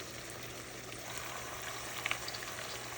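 Oxtail browning in a pan gives a steady, soft, even sizzle with a couple of faint pops and no talk over it.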